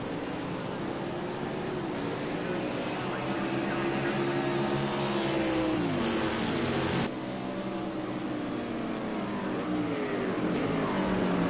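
Indy race cars circling a racetrack in a racing game, engines whining loud and continuous with pitch sweeping up and down as they accelerate and shift, one car closing in and passing.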